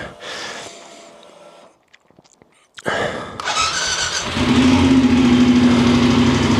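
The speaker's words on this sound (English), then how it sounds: "So right, let's get this bike started." A Voge 900 DSX motorcycle is quiet at first, then its engine cranks and catches loudly near three seconds and settles into a steady, close, droning idle.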